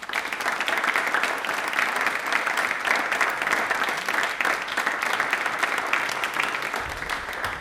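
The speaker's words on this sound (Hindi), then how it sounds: "एक बार तालियां प्लीज जोरदार बजा दीजिए" A studio audience at a televised quiz show applauding loudly, a dense, sustained roar of many hands clapping that carries on steadily and tapers slightly at the end.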